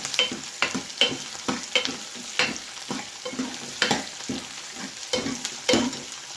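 About 25 small onions (shallots) sauté in a pan for a mushroom curry, with a continuous sizzle broken by regular scraping strokes of a spoon stirring them, close and clear.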